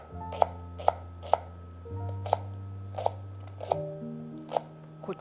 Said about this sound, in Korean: 그다음에 대파 송송송송 썰어 주세요.